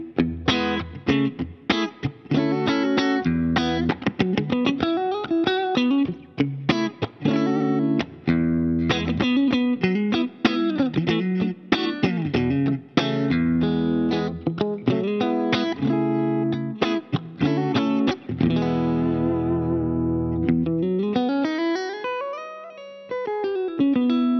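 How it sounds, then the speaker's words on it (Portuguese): Electric guitar with a clean tone through a Line 6 POD HD 500X multi-effects unit, reverb added, played continuously as chords and melodic runs that ring out loud and close, with no talking. "Aí eu deixei um reverbzinho aqui para quem gosta daquele molhozinho no clean."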